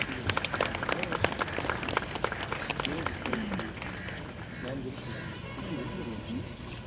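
Audience at an MBBS white coat ceremony applauds, crisp claps prominent at first then fading into murmuring voices and room noise as the clapping dies away.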